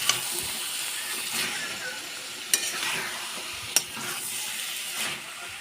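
Cabbage with rohu fish head frying in a pan, a steady close sizzle and hiss with a spatula scraping and stirring through it, plus a few sharp clinks against the pan.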